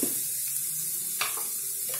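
Turmeric, coriander powder and chaat masala being stirred in a pan over a low flame give a soft, steady sizzle, with brief scraping strokes of the spoon breaking through twice.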